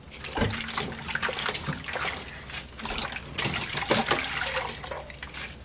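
Rinsed perilla leaves being wrung out by hand for kimchi, giving a close, steady wet trickle and dribble of water with brief squelching bursts, no talking.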